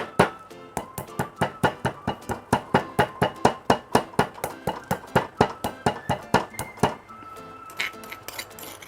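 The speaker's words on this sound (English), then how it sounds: "I add into this black peppercorn. I'm going to grind it." Black peppercorns are pounded for scallion Chinese sausage pancakes, a long run of sharp, evenly spaced knocking strikes at close range, roughly three per second, with a short pause before a few final hits.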